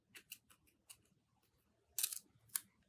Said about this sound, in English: taking our pair of scissors and cutting right down the middle.